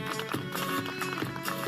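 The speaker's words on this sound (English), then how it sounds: "Sharing his fascination for the wild desert horses." Wild Australian desert brumbies run across the ground, their hooves drumming in quick, uneven clip-clop beats that carry at moderate distance.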